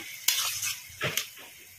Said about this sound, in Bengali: খুন্তি দিয়ে দিয়ে এইভাবে একটু গলিয়ে নেব